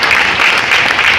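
A seminar audience gives a brief burst of loud, dense clapping for a mentor, a continuous wash of hands with no pause.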